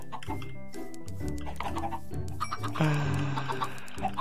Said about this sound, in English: Chickens, I'm coming for you with more seeds.